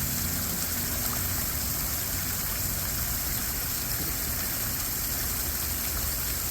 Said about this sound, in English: this is what a medium-sized water feature sounds like.